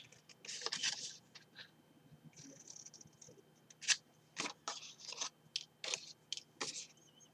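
Scissors snipping card for a tall candle box, heard as close, quiet, crisp cutting crunches in short irregular bursts with pauses between, no clear speech.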